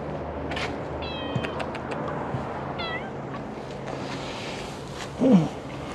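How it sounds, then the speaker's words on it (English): A friendly cat meows several times from close by against a low outdoor background, with a brief burst of other noise near the end. "He's a friendly kitty."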